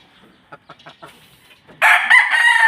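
A white Kelso gamefowl rooster crows loudly and close, a single strong call that breaks out after a stretch of faint scattered clucks and rustles.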